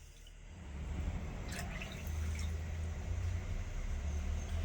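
Water poured steadily into a pot of sugar for rosogolla syrup, a continuous close gushing splash lasting several seconds with no talk.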